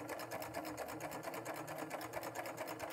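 A serger stitches a flat hem on fabric, a fast, even mechanical whirr with rapid rhythmic pulsing, close and steady throughout without talk.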